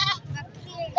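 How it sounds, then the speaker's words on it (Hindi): A goat bleats in a few quavering cries at a busy livestock market, with voices faintly in the background. "बकरी है?"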